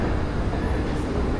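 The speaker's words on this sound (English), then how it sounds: "ride the little tram from the train station up to the city center" A small city tram on its route from the train station up toward the city centre rumbles along at a steady, loud pace, with a broad, even roar of wheels and motor and no breaks.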